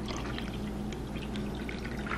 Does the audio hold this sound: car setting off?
no